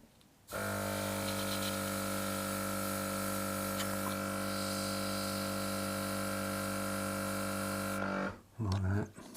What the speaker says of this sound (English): So the compressor, noise-wise, yeah, it's in the background.